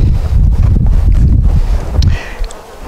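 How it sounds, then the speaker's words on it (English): Strong wind buffets the microphone outdoors at a beehive, loud low rumbling gusts that ease off toward the end, with faint outdoor sounds behind. "Just a little windy today."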